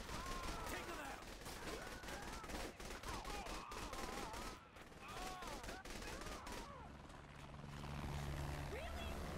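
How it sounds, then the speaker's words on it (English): An attack helicopter in the Saints Row: The Third video game rumbles overhead while dense bursts of gunfire and machine-gun fire crackle continuously, with voices mixed into the chaotic, loud battle. "Really? A fucking attack chopper?"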